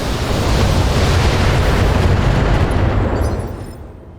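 A battlemech in the BattleTech video game fires all weapons at a Hunchback, loud, dense explosive blasts and booming gunfire merging into one sustained roar before it fades out at the end.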